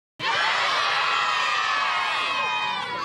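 A crowd of sixth-grade children at a school race start cheers and shouts loudly, bursting in suddenly and holding a sustained, close roar of voices.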